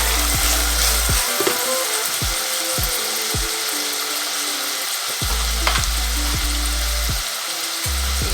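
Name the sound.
bay leaf and cardamom pods frying in a pan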